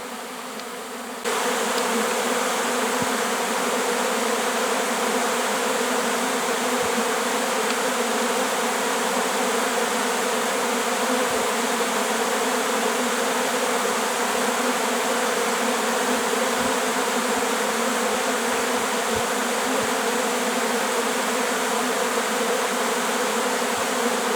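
Honeybees settle into empty hive bodies in an apiary, making a loud, dense, unbroken buzzing drone that stays steady throughout, with no voices.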